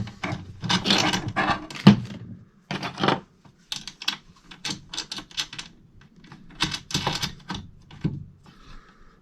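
Tightening the negative lug onto a battery terminal in a shipping-container inverter setup, heard as close, dry ratcheting and scraping bursts in irregular clusters with brief pauses, no talking.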